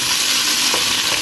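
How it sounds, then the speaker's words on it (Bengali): Shrimp frying in oil in a pot, a loud, continuous sizzle close up with no talk over it. "চিংড়ি মাছ দেওয়ার পরে একটু ভেজে নেব"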